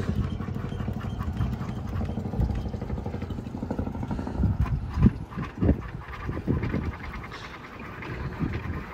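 A Raymarine EV100 wheel drive autopilot motor turns a sailboat's wheel, giving a steady mechanical whir with clicking and knocking pulses that grow more uneven partway through, close by and moderately loud.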